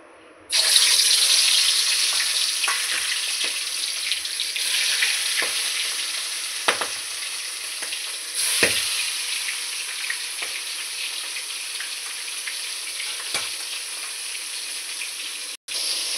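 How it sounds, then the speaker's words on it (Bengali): A fish head fries in hot oil in a wok, giving a loud, steady sizzle that begins abruptly and crackles on at close range, with occasional pops and spatters and no talking. "আমি দিচ্ছি কড়াইতে তেল মাছ ভাজার জন্য"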